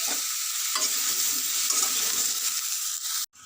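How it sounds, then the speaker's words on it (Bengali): Dried chillies, bay leaf and five-spice crackle and hiss in hot oil, a dense, close, steady sizzle with faint stirring, cutting off abruptly near the end; no voices. "ফোড়ন দিয়ে তুলেছি শুকনো লঙ্কা তেজপাতা পাঁচফোড়ন দিয়ে তুলেছি এটা একটু ভালো করে কষে নেব"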